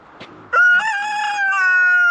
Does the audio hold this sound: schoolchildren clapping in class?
no